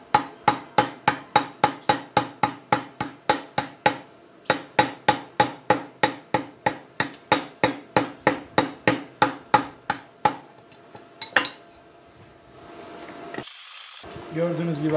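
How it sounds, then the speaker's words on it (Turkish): Stick electrode welding with a HITBOX HBM1200 welder: a steady run of sharp, evenly spaced crackling bursts for about ten seconds, then a quieter tail and a brief hiss near the end. "Elektrot kaynağı da şahane."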